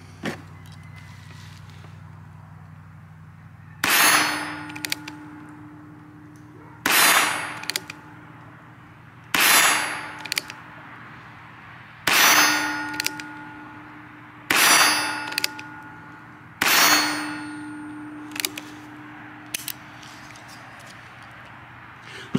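A Ruger Wrangler revolver fires six evenly spaced shots, each followed by the bright ringing clang of a steel target, with quiet pauses between them on an outdoor range.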